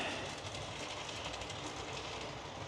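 A ROCO BR186 model electric locomotive runs along DCC-controlled track, producing a faint, steady rolling rumble with light clicking.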